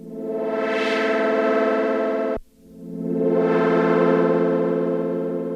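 A thick, buzzing granular synthesizer drone from an Arturia MicroFreak with a swelling filter sweep, cutting out briefly in the middle before swelling back, rich and distorted.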